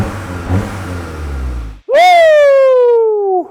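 A Volkswagen MK7 GTI engine cranks and catches, then holds a loud, steady run after a brief gap following a rumbling buildup.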